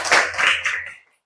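A classroom audience clapping hands in a short rhythmic burst of a few claps that stops abruptly, leaving silence after about a second.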